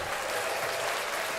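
Applause-like burst of many hands clapping, a steady dense patter filling the short moment, fairly loud with no gaps, used as a hand clap sound effect.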